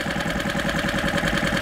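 A boat's engine runs with a steady, rhythmic chugging as a carp-fishing boat motors out of a harbour in Groningen, close, loud and constant with no talking.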